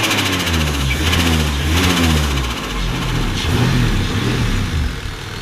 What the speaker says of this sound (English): We'll give you a little rev though.